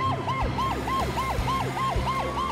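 A wailing emergency siren cycles rapidly up and down, loud and continuous, over a low rumbling vehicle engine.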